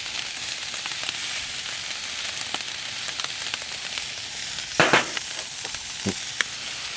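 Steaks fry with seasoning on a home griddle in a hibachi-style meal with rice and garlic butter. A constant loud sizzle runs throughout, with a few brief scraping clatters near the end.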